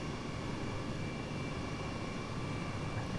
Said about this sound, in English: Man, this helicopter fly is good.